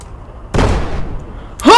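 A tank cannon firing in a video game, a single heavy booming shot that rings out and decays, followed by a brief voice at the end.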